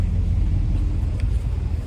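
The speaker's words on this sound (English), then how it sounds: "It's about all a little Tinker Toy dump truck can handle." A small, loaded dump truck at work on a lawn renovation, a steady low engine rumble that stays close and unbroken throughout.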